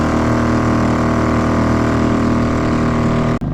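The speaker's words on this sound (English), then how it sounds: "I'm gonna turn the engine off because I don't need it. I don't need the sound." A small outboard motor on a fishing kayak drones at a steady idle, close and continuous, then cuts off abruptly right at the end.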